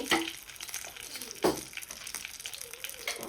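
Mustard seeds and urad dal tempering in hot oil in a pan for a garlic chutney, with a steady sizzle and two sharp spitting pops close by.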